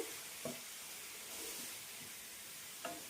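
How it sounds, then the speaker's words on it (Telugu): Spinach fries in oil for a chutney, giving a faint, steady sizzle and hiss. A few soft utensil clicks sound near the start and end. "ఇలా మంచిగా నూనెలో వేపుకోండి చూడండి పాలకూర ఇలా వేగిపోవాలన్నమాట"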